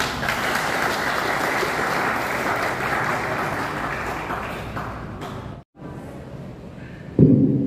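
Hall audience at a Catholic organisation's inauguration ceremony in Magelang clapping together, a broad sustained applause that tapers, breaks off briefly, then resumes more faintly with a louder knock near the end.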